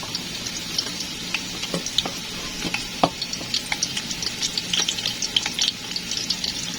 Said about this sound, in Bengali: আমার তেলগুলো গরম হয়ে আসছে, এখন আমি পেঁয়াজগুলো দিয়ে দেবো।